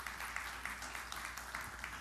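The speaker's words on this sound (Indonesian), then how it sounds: "Tepuk tangan yang meriah bagi Tuhan Yesus." Church congregation clapping during a sermon, a continuous even patter of many hands at moderate distance, low in level and sustained without pause.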